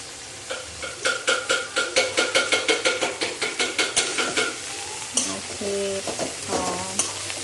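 Shredded cabbage stir-fried in a pan for spring rolls: a steady sizzle under a run of rhythmic scraping stirs, about a dozen even strokes, followed by a few clinks and scrapes of a utensil against the pan, close and fairly loud.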